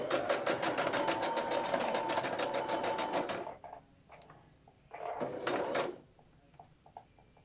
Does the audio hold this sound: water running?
no